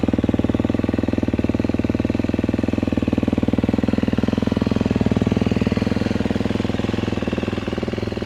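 Close and loud, a KTM four-stroke dirt bike fitted with a carbon fiber FMF exhaust idles in a rapid, steady chug that holds even for several seconds, with no one talking.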